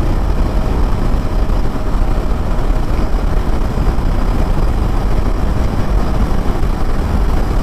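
A Gen 3 KTM Duke 390 motorcycle cruises on the highway at about 5600 to 5800 RPM. A loud, steady engine drone blends with heavy wind rush, unbroken throughout, with no talking.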